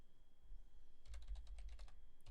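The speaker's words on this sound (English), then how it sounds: "then I'm going to type in" Quick, light keystrokes on a computer keyboard begin after a quiet second and come in a short, close burst of clustered taps before pausing.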